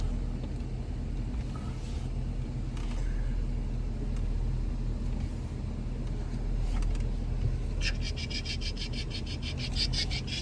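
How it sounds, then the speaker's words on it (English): Vehicle reversing a 24-foot trailer into place, a steady low engine rumble with rubbing and scraping throughout and a rapid rattling burst toward the end. "You guys want to watch how I back in my trailer right now?"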